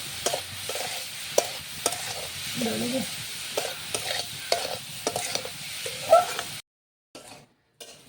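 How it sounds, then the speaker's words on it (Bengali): Grated coconut and sugar are stirred together in a hot wok, giving repeated scraping strokes over a soft, steady sizzle. The sound stops abruptly near the end. "কড়াইতে নারকেল আর চিনি একসঙ্গে মিক্স করে কড়াইতে নাড়াচাড়া করা হচ্ছে।"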